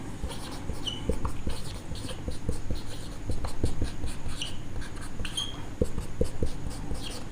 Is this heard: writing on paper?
yes